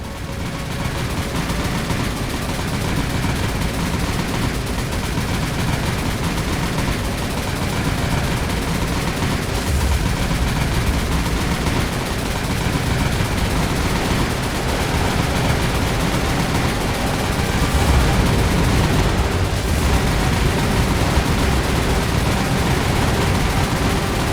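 Havoc aircraft strafing ships in the naval game War on the Sea, a continuous dense clatter of gunfire and explosions rolling on steadily for over twenty seconds.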